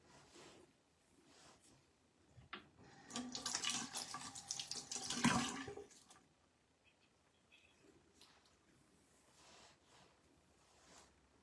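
A tap runs water for wetting long hair before cutting curtain bangs, a burst of flow swelling for about three seconds then cutting off, with soft handling noises before and after.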